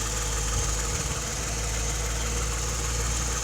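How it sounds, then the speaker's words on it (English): A 2007 Toyota Sienna CE's 266-horsepower V6 idles at a steady, quiet, even rumble, with a brief low thump near the start. "we have a V6 engine, 266 horsepower"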